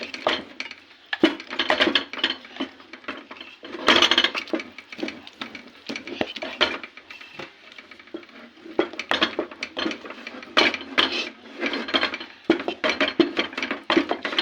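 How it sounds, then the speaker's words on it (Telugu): A spoon stirs and scrapes thick homemade haleem of mashed chicken and lentils in a metal pot, giving irregular clanks and knocks that come and go over a steady kitchen background. "ఇట్లాగే ఒక అరగంట కలుపుకుంటూనే ఉండాలి, చికెన్ అంతా బాగా పట్టేటట్టు."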